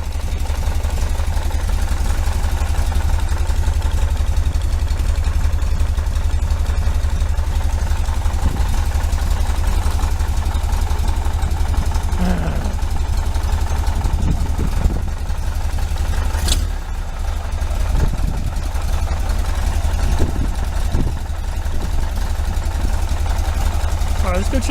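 A 1973 VW Super Beetle air-cooled engine fitted with a Dellorto FRD 34 carburetor and balance tube idles steadily near 700 rpm, a loud, even low rumble running throughout with a few faint knocks and shuffles on top.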